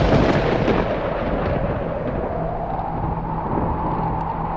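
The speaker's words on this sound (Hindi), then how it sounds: "ऐसी कड़कड़ाती है बिजली मानो आसमान जैसे चीख रहा हो" Thunder rolls during a storm in an animated Hindi horror story, a long, loud, continuous rumble that crashes at the start and then grinds on steadily, with no talk.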